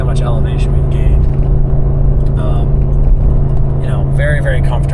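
A Ford F-250 pickup tows a trailer up a 7% grade at just over 3,000 RPM, its engine droning in a steady low rumble inside the cab while someone talks over it.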